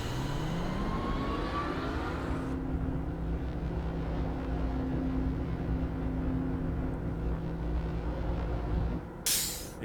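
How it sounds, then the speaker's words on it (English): Exhaust sound from a machine in the Myst video game: a steady, dense mechanical rumble with a low droning hum that runs unbroken for the whole stretch, then breaks off in a brief hiss at the very end. "Exhaust sound is east"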